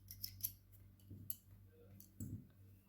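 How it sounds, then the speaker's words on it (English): A few quiet, crisp snips of scissors cutting crochet yarn at the end of a piece of work, close and sparse with small clicks between them, no talking. "I'll cut the yarn."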